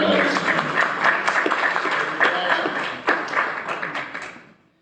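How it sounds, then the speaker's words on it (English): Audience applause for a keynote speaker at a candidates forum held in a church, a room of clapping hands with some individually distinct claps, steady for several seconds before fading out at the end. "Let's give her a round of applause."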